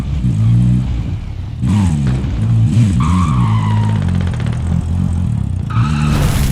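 A car in Call of Duty drives and skids, a close, loud engine drone with repeated tire squeals and skids over the rumble.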